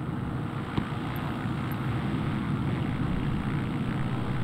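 A Beechcraft Bonanza G36 flying over the Monterey Peninsula drones with a steady, loud engine and propeller roar heard from inside the cabin, continuous throughout.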